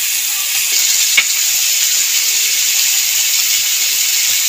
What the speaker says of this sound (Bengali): ফুলকপিগুলোও আমি নুন হলুদ দিয়ে ভেজে নেব হালকা করে